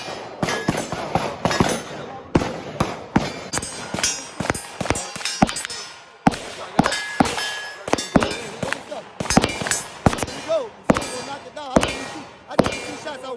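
Glock pistols fire at a shooting range, sharp loud cracks coming in rapid irregular strings with short gaps between volleys.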